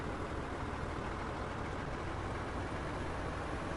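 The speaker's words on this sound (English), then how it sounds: "The truck sounds so deafening to me." Truck engine in DayZ, a dense, loud, continuous rumbling roar that stays steady throughout without breaks or other sounds.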